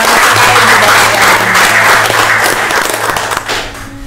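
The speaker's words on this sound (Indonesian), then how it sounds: "Tepuk tangan dulu dong." Audience at a Korem 151 Binaya military event breaking into loud, sustained applause, dense clapping from many hands close by, tapering slightly at the end.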